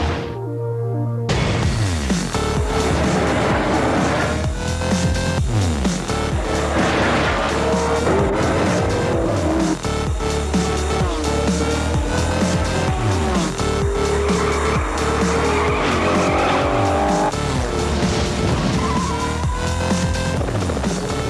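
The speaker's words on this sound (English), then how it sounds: "Take it to the track with Gran Turismo 5, only on PlayStation 3." Racing car engines roar and wail through shifting revs in the Gran Turismo 5 video game on PlayStation 3, loud and continuous, with occasional tire squeals and passing whooshes layered throughout.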